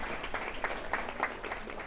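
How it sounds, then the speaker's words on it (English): A brief patch of audience applause at a Head Start meeting, moderately quiet with scattered individual claps across a couple of seconds. "How about a round of applause for everybody in the room?"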